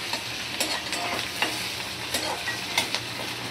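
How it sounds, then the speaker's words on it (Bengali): Diced potatoes and sliced onions fry with a green chili in a pan, giving a steady close sizzle broken by light, irregular stirring scrapes. "আলু আর পেঁয়াজ দেখো ভাজা করতে দিয়ে দিয়েছি"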